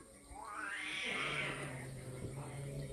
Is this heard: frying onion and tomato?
no